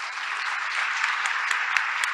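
Steady, dense applause from an audience honoring a high school orchestra at a school board meeting, continuous and fairly close throughout, with no talking over it.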